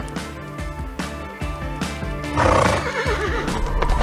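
A horse in a Wild West setting whinnies loudly while hooves clip-clop in a steady, close rhythm, with a long neigh rising partway through; no one speaks.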